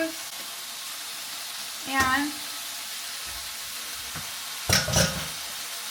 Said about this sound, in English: that's the sizzle we want to hear because it means it's cooking.